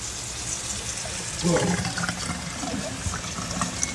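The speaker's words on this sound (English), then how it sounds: "Once the water drains, we'll be able to see what's what." Water drains and trickles from rinsed mustard and turnip greens in a sink, a soft steady splashing with a brief louder gush midway.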